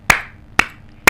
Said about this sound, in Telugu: ఇలా చప్పట్లు అబ్బాయిలు కొట్టలేరు